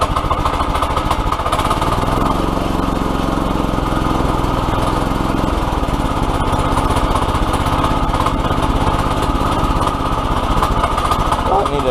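A 212cc Predator small engine mounted on an ATV quad runs steadily and loudly up close, a constant buzzing drone with slight shifts in pitch throughout, while a voice talks faintly beneath it.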